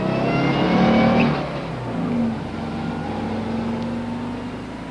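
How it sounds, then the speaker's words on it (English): A car engine drones loudly, swelling briefly before easing down in level and pitch to a steadier, lower hum as the vehicle slows, with no talking. "The car stopped and Thornwell got out."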